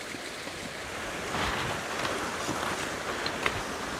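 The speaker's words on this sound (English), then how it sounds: "Water rushing down the cliff." Water rushes down a cliff on the Devon coast near Maidencombe, making a steady outdoor hiss and wash with wind noise across the mic, moderate in level and with no talking.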